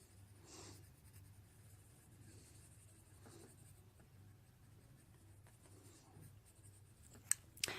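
Colored pencil shading dark orange onto paper in a coloring book, a very faint, soft scratching that continues quietly throughout, ending with a couple of small clicks.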